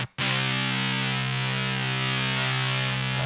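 Electric guitar run through an Ooh La La Synth Mangler fuzz pedal with the gain set low, sounding as one thick, sustained, heavily fuzzed chord that rings on steadily after a sharp attack, loud and close with no talking.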